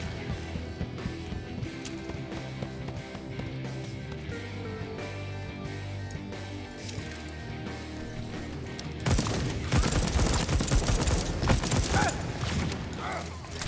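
Gunfire in the video game Deathloop, a dense burst of rapid shots erupting loudly partway through after a stretch of quieter mechanical game noise, continuing steadily to the end.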